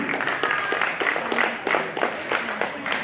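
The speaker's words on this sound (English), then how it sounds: "a round of applause for the men who featured in the second match tonight" Crowd clapping and cheering in a large open space at a football match, broad and steady throughout, with scattered sharper claps and a few voices mixed in.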